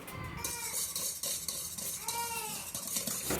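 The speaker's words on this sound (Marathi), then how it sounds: "आता 1 कप दूध मस्त दह्यामध्ये मिक्स करून घ्या छानपैकी, आणि नंतर तेल" Liquid sloshes and a utensil scrapes and clinks against a bowl as milk and oil are stirred into whisked yogurt for a wheat-flour cake batter, close and fairly quiet with irregular taps.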